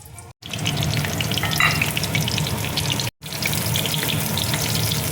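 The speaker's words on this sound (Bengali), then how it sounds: "কড়াইয়ে দেখো সর্ষের তেল দিয়েছি। এবার আমি ফুলকপিটা দেখো দিয়ে দিচ্ছি।" Steamed cauliflower dropped into hot mustard oil in a wok, a loud, continuous close sizzle and crackle with two brief dropouts, no talking.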